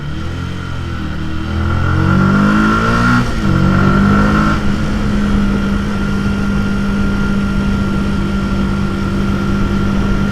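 A Yamaha YZF R125 125cc motorcycle engine revs up while riding, the pitch climbing and dropping around a gear change before settling into a loud, steady drone close by.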